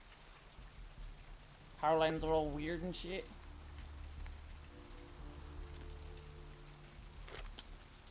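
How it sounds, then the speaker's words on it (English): Steady patter of rain on a surface in the video game Vampire: The Masquerade – Bloodlines runs throughout, with a person speaking briefly over it in the middle. "It's raining."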